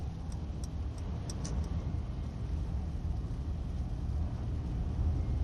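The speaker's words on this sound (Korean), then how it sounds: "우측 깜빡이 켜고" A car's right turn signal ticks in a steady rhythm, faint and near, over a constant low road and engine rumble while changing lanes to the right on a road.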